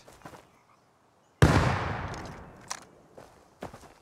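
Bomb explosion during a raid in the survival game Rust, one loud sudden blast with a decaying rumble, followed by a few fainter thuds and footstep-like knocks.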